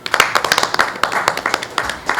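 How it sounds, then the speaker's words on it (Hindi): Audience clapping, close and loud, made up of many quick hand claps in an uneven, lively rhythm that goes on through the short burst. "तो मैं उनके लिए भी ज़ोरदार तालियां चाहूँगी।"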